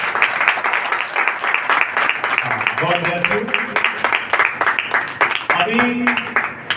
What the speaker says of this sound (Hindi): एक बार जोर से ताली बजा देंगे।